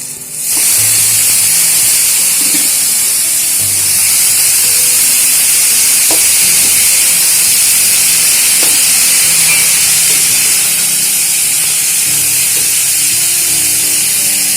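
Potatoes and boiled banana flower sizzle loudly and steadily in a hot pan, with a continuous close hiss and a few faint clinks.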